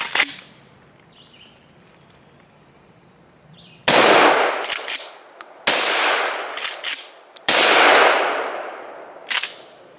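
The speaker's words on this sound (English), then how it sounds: "we're just going to do some number 8 shot, same distance, about 15 yards, and I'm going to see where that goes on that target" Remington Tac-14 shotgun firing number 8 shot at about 15 yards outdoors: three loud, sharp blasts a couple of seconds apart, each followed by a ringing echo, with quiet stretches between.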